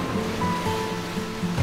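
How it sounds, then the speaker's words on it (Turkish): Sea waves wash in a continuous, even rush of surf, close and steady with no voices. "Dalga sesi"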